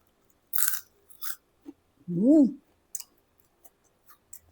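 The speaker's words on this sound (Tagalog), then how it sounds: "Yung malutong. So, unang subo po para sa inyo." Crunchy crablet fritter (okoy) bitten once up close, a single loud crisp crunch followed by a few soft chewing clicks and mouth sounds, with a short faint sound before the bite.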